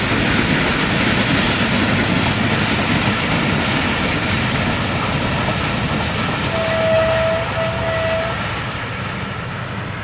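A train passes close by with a loud, steady rumble of wheels and cars, and two short horn blasts sound near the end.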